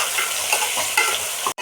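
Onions sizzling in hot oil while being stirred, a dense crackling hiss with scraping stirs, ending in a sudden brief cutoff.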